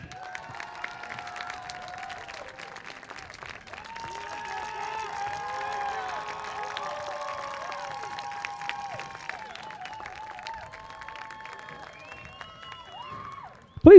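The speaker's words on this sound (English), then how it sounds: "a very nice round of applause for our entire coaching staff" A crowd applauds the coaching staff at a high school pep rally in Brownsville, steadily with scattered cheers, a sustained wash of clapping at moderate volume, ending in a sudden loud burst.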